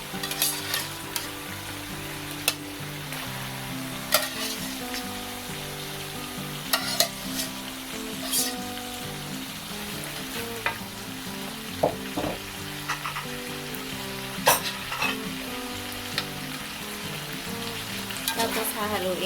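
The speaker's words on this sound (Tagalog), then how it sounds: "Ngayon ay ilalagay ko na po itong ating pusit na tinanggalan ko ng water kanina." Squid being fried and stirred in a hot pan for adobong pusit, a continuous crackling sizzle with irregular loud spatters and utensil scrapes against the pan, close and steady throughout.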